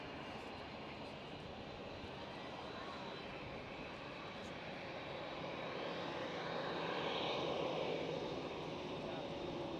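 A Boeing Dreamliner taxis out toward the runway at Schiphol, a distant, steady engine roar that swells slightly louder toward the end, with someone talking now and then.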